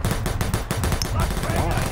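Rapid automatic gunfire in the Predator Hunting Grounds video game, a dense close burst of shots running continuously under a loud game soundscape, with someone talking over it.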